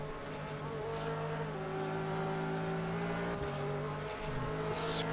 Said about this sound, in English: It's a screaming Porsche 911 GT3 engine. You can hear it there, braking into the left-hand chicane.